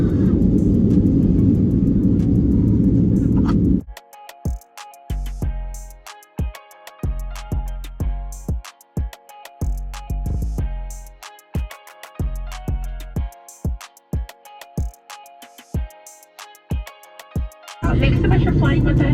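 Low, steady rumble inside an airplane cabin just after landing in Las Vegas, loud at the start and end, interrupted in the middle by a long stretch of sharp rhythmic clicks and tones.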